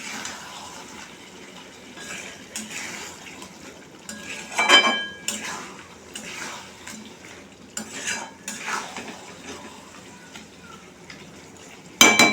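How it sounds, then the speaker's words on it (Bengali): Metal spoon scraping and clanking in a pan as chicken pieces are stirred into spice masala for chicken kosa, close and uneven with bursts of stirring and a faint sizzle, no talking. "মাংসগুলো দিয়ে ভালো করে নাড়িয়ে নেব, মাংসগুলোর সাথে ভালো করে মিক্স করে নেব"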